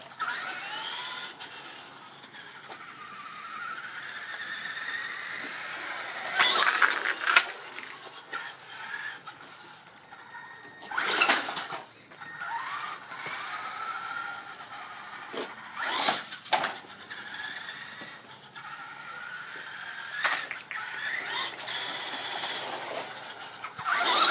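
A small, high-pitched RC car motor whines and revs up and down repeatedly, with sharp bursts of noise as it accelerates, fairly close, as the engine breaks down.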